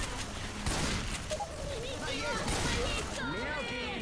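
Gunfire in the video game Left 4 Dead 2, rapid rattling shots and bursts running continuously under players' excited talk.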